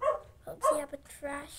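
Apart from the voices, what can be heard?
dog barking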